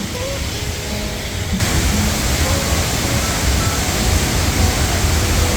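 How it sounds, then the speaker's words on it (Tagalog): Mother Falls waterfall in Baler, a loud, dense broadband rush of falling water that swells after the first second and holds steady and close. "Finally we're here at Mother Falls, Baler."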